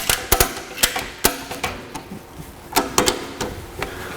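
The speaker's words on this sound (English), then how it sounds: "I then take out the slack from the ratchet and tighten it." Ratchet strap being cranked tight around a cylinder held in a drum depalletizer, giving a series of sharp, close clicks and clacks in an irregular rhythm, with no talking.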